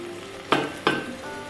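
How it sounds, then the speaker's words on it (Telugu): Onions fry in a pan with a constant low sizzle, broken by two sharp scraping strokes of a spoon stirring them from the bottom. "ఆనియన్స్ అవి బాగా పట్టేలాగా సాఫ్ట్గా కింద నుంచి మిక్స్ అయ్యేలా మొత్తం కలుపుకోండి"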